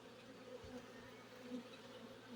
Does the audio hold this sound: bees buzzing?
yes